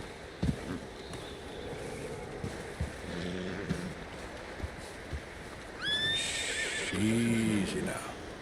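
Horse neighing and whinnying in Red Dead Redemption 2, a falling whinny near the six-second mark and a louder low snort-whinny near seven seconds, over game ambience with a calm voice speaking to the horse.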